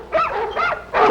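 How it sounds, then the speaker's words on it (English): Dogs bark in an old 1950s television sitcom scene, three quick yelping barks evenly spaced and fairly close, with no talk over them. "All night long, those dogs barking."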